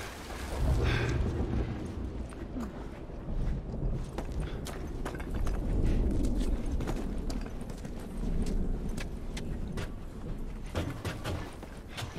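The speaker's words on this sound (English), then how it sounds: "At least we're out of the rain." Steady rain falls outdoors in The Last of Us, a soft continuous wash broken by scattered heavier drips and taps, with no one talking.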